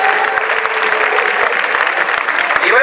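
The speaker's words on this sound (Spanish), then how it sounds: "A todos y a todas ese aplauso bien fuerte para nuestros participantes" Loud, dense crowd applause for participants at a carnival event, sustained and even throughout, with faint voices mixed into the clapping.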